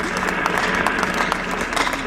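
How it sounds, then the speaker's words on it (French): A crowd at a civil wedding applauds for Maître Diaby, a dense and steady burst of clapping that carries on throughout. "Applaudissons pour Maître Diaby"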